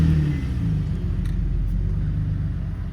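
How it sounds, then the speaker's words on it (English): Infiniti G35/G37 engine running after being started, a deep steady low rumble with a slight rise like a light rev, heard close and loud with no talking. "gotta cut the car on."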